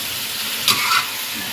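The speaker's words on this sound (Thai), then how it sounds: "เดี๋ยวเราลอง ผัดไปก่อน" King oyster mushrooms being stir-fried in a hot pan, a steady loud sizzle and hiss with a couple of brief scraping stirs of the spatula partway through.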